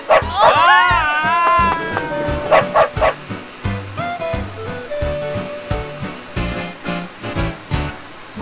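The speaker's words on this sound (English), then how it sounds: "It's a dog." A cartoon dog gives several bright, yappy barks amid a children's animated English lesson, with music and sound effects playing throughout.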